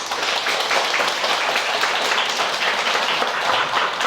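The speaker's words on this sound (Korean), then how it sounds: "다시 한번 열강해 주신 우리 권성재 선생님께 큰 박수 부탁드립니다" A lecture audience applauds a speaker at a mental health talk, steady dense clapping that holds loud and even for several seconds with no voices over it.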